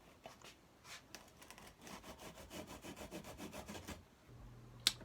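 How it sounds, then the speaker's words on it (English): A Japanese flush saw cuts wine corks in half, giving a steady run of quick rasping strokes for about four seconds, followed by a low hum and a single sharp click near the end. "Here I'm using my Japanese flush saw to cut these wine corks in half"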